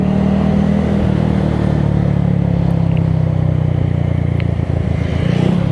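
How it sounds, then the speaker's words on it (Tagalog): A loud, steady motorcycle engine drones close by during a road ride from Calamba to Lucena City, Philippines, running at a constant pitch with a slight change in tone partway through. "Malakas naman yung kanyang motor"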